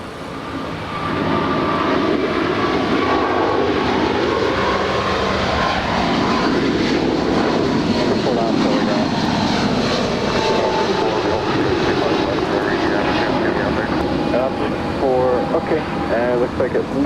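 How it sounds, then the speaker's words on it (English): United Airlines Boeing 777-200 jet rolling down a runway at Los Angeles airport, a loud continuous engine roar that holds steady throughout, with people talking over it. "United Airlines flight 1224 heading to Honolulu. It's a 777-200 rolling down 25 right."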